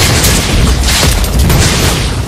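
Loud, dense explosion blasts in the mobile battle game Mobile Legends: Bang Bang, a continuous booming roar filling the whole moment with no pauses.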